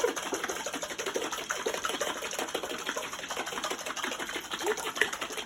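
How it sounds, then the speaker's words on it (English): Vinaigrette shaken in a cocktail-style shaker for a salad, a steady rapid rattling and sloshing that runs throughout, fairly close and moderately loud, with no talk over it. "So we're making a vinaigrette-tini. So you just shake."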